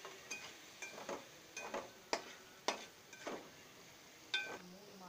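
Masala with three green chillies and a tomato being fried and stirred in a pan, a series of sharp scraping and clinking spatula strokes at irregular intervals over a faint sizzle, close and fairly quiet.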